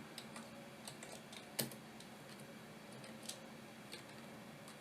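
Soft, quick key taps on a computer keyboard, faint and irregular, with one sharper click among the light clatter in a quiet room.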